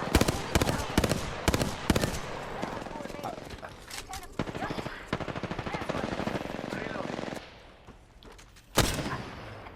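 Rapid bursts of gunfire in the video game Apex Legends, loud and repeated in close clusters, with voices talking over the shooting during a firefight.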